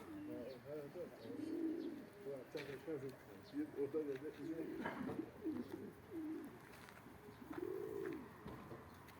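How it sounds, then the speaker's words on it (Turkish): Pigeons or doves cooing repeatedly in a bird loft, with rounded low coos rising and falling close by, some chirps mixed in, and people talking faintly under the calls. "Abi geçen sefer geldiğimizden biraz daha farklı kuşlar var."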